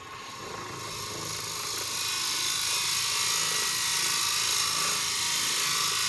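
A wood lathe turning at low speed while a bit is fed gently into the center of a poplar dowel, giving a steady, loud whirring hiss that swells over the first two seconds and then holds constant.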